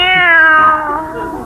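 A single drawn-out cat meow, used as a sound effect in a 1955 old-time radio comedy, sounds loud and close and stands alone with no talk over it.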